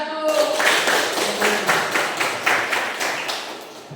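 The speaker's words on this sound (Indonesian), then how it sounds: "tepuk tangan dulu dong buat kelompok 1" Students in a classroom clap for a presenting group, a short run of quick, fairly close hand claps that fades toward the end, with a voice briefly heard at the start.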